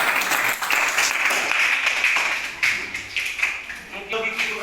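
Classmates give a burst of group applause in a school classroom after a presentation on silage, dense clapping that fades slightly toward the end, with voices mixed in.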